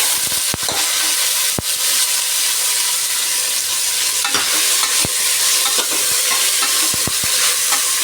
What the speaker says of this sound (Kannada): ಸ್ವಲ್ಪ ಎಣ್ಣೆಯಲ್ಲಿ ಫ್ರೈ ಮಾಡ್ಕೋಬೇಕು.